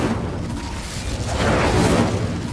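Incendio fire spell in Hogwarts Legacy erupting in a dense, roaring rush of flame that swells midway through and keeps booming steadily, close and loud, with no speech.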